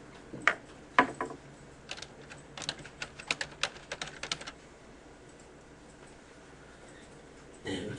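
Text is typed on a computer keyboard in a quiet room as a loose run of sharp key clicks, some quick and clustered, others spaced apart. The clicks stop briefly before a final burst.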